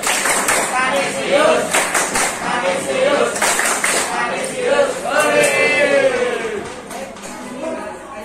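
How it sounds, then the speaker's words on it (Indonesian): Pupils and teacher in an Indonesian classroom perform the rhythmic 'Tepuk Kanisius' clap chant for Pak Anton: patterned group hand claps mixed with chanting voices, steady and fairly loud throughout. "Kita tepuk tangan untuk Pak Anton. Tepuk Kanisius."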